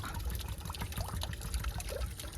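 Water from an irrigation pipeline on farmland pours and gushes in a continuous, fairly loud rush with a low rumbling body and no voices.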